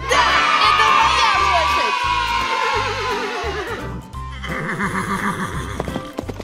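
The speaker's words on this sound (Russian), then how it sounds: "лошадь! Скачи, скачи, лошадка!" Horse neighing in a loud, drawn-out whinny, with a second shorter whinny following amid lively background noise and shouting.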